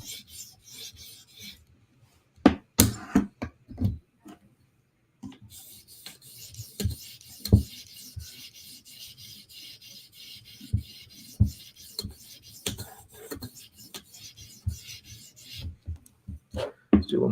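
A steel blade is sharpened with long strokes against the burr, a couple of passes on each side. Close, dry rasping strokes come in irregular bursts separated by short pauses, with no voices.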